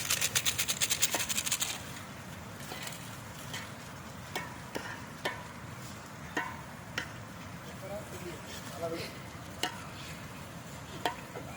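Chicken with garam masala stirred in a pan for Chettinad chicken cooked outdoors by a riverbank: a rattle of quick strokes at first, then regular scraping knocks of the spoon over a soft background sizzle.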